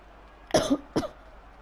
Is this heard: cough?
yes